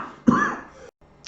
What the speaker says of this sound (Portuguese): Perdão aí, né? Tossindo.